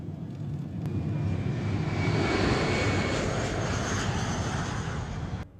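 A jet airplane taking off in an anime gives a loud, steady roar that swells and holds for about five seconds, then cuts off sharply. No voices are heard.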